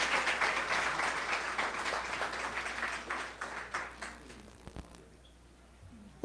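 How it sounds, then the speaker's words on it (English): Audience applause at a Busboys and Poets book presentation, a full round of clapping that is strongest at the start and gradually thins and fades toward the end, with no talking. "Everyone, give another round of applause."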